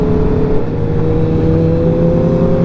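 An Aprilia RSV4 motorcycle with an SC-Project straight pipe exhaust gives a loud, steady, throaty engine roar heard up close throughout, without voices.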